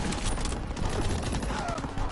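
Dense bursts of gunfire fill a World War II video game battle, with rapid overlapping shots like a fusillade and machine-gun fire sustained at steady loudness throughout.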